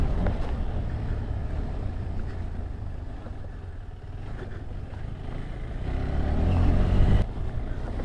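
A KTM Adventure 390 motorcycle ploughs through water on an off-road trail, giving a continuous rushing wash of splashing and engine noise buffeted by wind, which swells louder toward the end.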